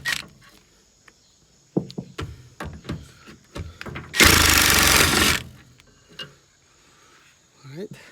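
Bolts come out of the rear bumper of a crashed 2006 Mercedes Sprinter with sharp metallic clicks and ratchet taps, then a loud burst of power-tool whirring, close up with someone talking in between.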